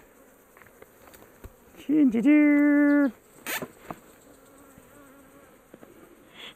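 Honey bees buzz around hive frames in a honey extraction room, a sharp close buzz swelling for about a second, then scattered fainter buzzes and small clicks, with a brief spoken word nearby.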